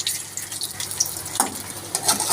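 Mixed vegetable patties shallow frying in oil in a pan, each side browning, giving a steady crackling sizzle with a few sharper pops, close and fairly loud with no talk.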